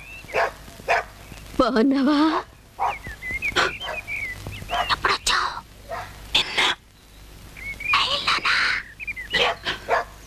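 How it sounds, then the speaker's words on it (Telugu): A hungry dog barks and yips in short, irregular bursts, fairly close, mixed with brief talking by several people. "ఆకలేసి కుక్క అరుస్తుంది"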